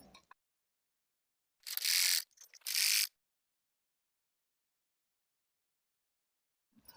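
A sewing machine stitches along the thin piping around a blouse neckline, heard as two short bursts of rapid, close mechanical whirring with a brief pause between them and quiet on either side.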